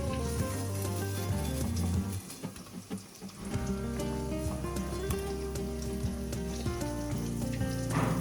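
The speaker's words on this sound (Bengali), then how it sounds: "পনিরগুলো আমি ভেজে নিলাম খুব হালকা" Paneer fries lightly in a pan, giving a soft, continuous sizzle that sits under prominent background music throughout.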